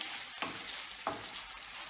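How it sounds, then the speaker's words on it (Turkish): Steady sizzling of chicken frying in butter in a pan, close by, with a couple of soft stirring scrapes breaking through the hiss. "Tavuklarımı ekliyorum. Bunları güzelce pişireceğim bu şekilde."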